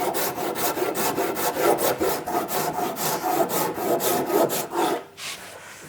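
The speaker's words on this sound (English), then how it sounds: "So I've gone over that with the rough side of the Shinto saw rasp." Wood being worked with the rough side of a Shinto saw rasp: steady, rhythmic scraping strokes repeating at a brisk pace, loud, close and gritty, then the last stroke tails off near the end, with no voices.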